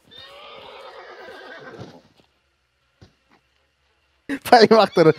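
A horse neighs in the video game Hunt Showdown, a long, clear whinny lasting about two seconds, followed by silence and then a person speaking loudly.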